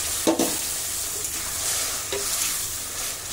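Mango paneer curry being stirred in a pan, a steady low frying sizzle with a couple of brief spoon scrapes near the start and middle, close and moderately loud with no talking.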